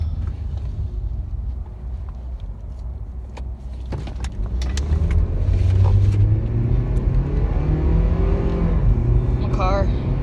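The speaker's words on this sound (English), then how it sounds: "My car making all the noises." A car engine hums from inside the moving vehicle and swells as it accelerates midway, with road rumble underneath. A few clicks and brief squeaks break in, and people talk now and then over the engine.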